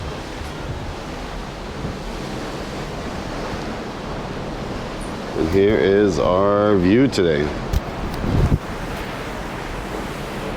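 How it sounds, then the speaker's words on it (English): Steady wind buffets the microphone on the open bow deck of an MSC cruise ship, with a constant roar of rushing air and surf-like noise; a person speaks briefly partway through. "Oh yeah, it's windy, but it's warm."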